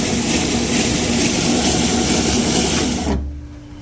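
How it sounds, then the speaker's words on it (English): A belt sander grinds flat the surface of a warped Ford exhaust manifold, a loud steady abrasive roar that cuts off abruptly near the end, leaving a low hum. "Here we are at the belt sander. Let's make them flat."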